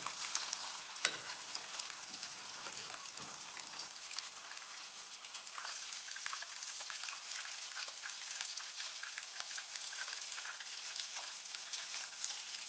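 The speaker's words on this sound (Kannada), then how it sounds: "ಇದು ಚೆನ್ನಾಗಿ ಫ್ರೈ ಆಗಬೇಕು" Steady, even sizzle of chicken kebab pieces coated in corn flour frying in hot oil over a medium flame, a continuous crackling hiss with faint occasional clicks, close and alone without speech.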